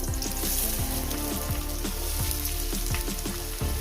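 Chopped onion frying in hot oil with small pond fish and radish, a steady loud sizzle throughout, with repeated rhythmic scrapes of a spatula stirring the pan.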